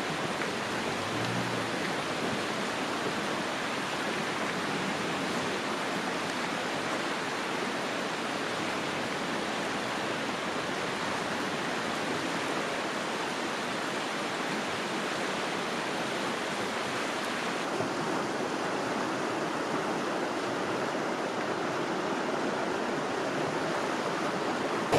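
Big Piney Creek flows below a bluff, a broad, steady rushing wash of river water heard from a distance, unbroken and even in level throughout.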